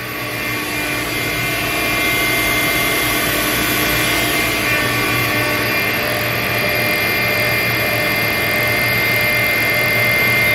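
A 2022 TRAK TMC7 vertical machining center spindle runs at 1,000 RPM, making a loud, steady whirring hum with a constant tonal whine that holds unchanged throughout.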